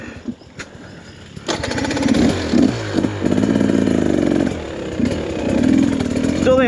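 A Husqvarna TE300 two-stroke dirt bike engine runs close by at a low, uneven idle with a steady buzzing drone that swells and dips. It starts after a brief quieter stretch and carries on with no talk.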